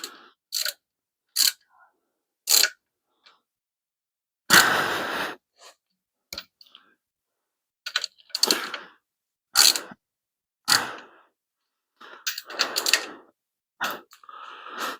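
Bolts being tightened by hand on a 5.7 Hemi engine build, heard as a close series of short, sharp ratcheting clicks and bursts separated by brief pauses.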